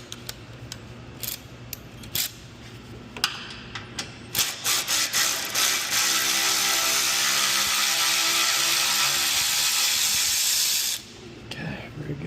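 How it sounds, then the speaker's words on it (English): Ratchet wrench loosening a 10mm bolt while fitting splash guards on a 2022 Nissan Frontier Pro4X, giving scattered clicks and then a steady, loud run of rapid ratcheting for several seconds before it stops. "now we're going to go and remove this bolt. That is a 10mm"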